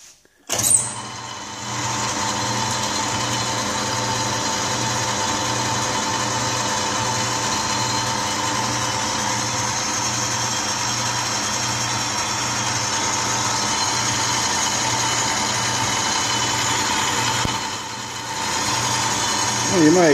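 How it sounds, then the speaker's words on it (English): A South Bend lathe takes a single facing pass across the end of a steam engine piston valve, a steady motor hum with a low rhythmic pulse running continuously, with a brief dip near the end. "So I'll run one pass across the end of this valve. On the South Bend."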